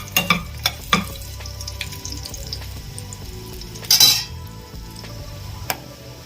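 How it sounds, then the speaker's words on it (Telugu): Thinly sliced garlic dropped into a hot pan for channa masala and stirred, with a soft sizzle, a few sharp utensil clinks against the pan and a brief louder scrape partway through. "తెల్లగడ్డ ఒక్కటండి సన్నగా కట్ చేసుకున్నాను, అది వేస్తున్నాను. కొంచెం కలుపుతున్నా."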